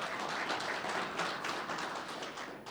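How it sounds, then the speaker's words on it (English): An audience at a fintech panel event applauds a panelist's introduction, with moderate, fairly quiet clapping from a mid-sized crowd that holds steady for a few seconds before thinning slightly. "Round of applause, ladies and gentlemen."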